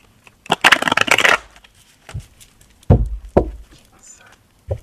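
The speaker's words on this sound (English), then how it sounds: "I'm going to shuffle and then just draw from the top." Cards are riffled in one quick, crisp rattling burst, followed by a few soft taps and thumps as the deck is handled.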